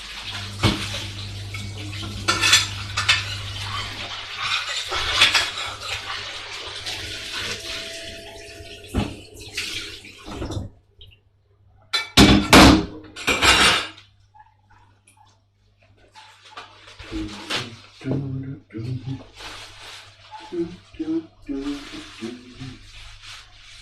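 Running water from a tap splashes and clatters against a metal pot, with a steady low hum beneath and bursts of sloshing, stopping and starting.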